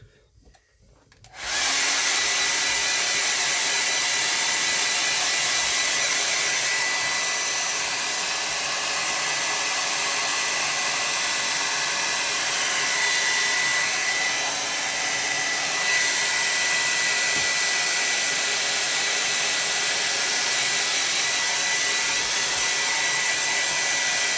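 A hair dryer drying a watercolor landscape painting clicks on after a brief quiet moment, then blows in a loud, steady, unbroken roar for over twenty seconds.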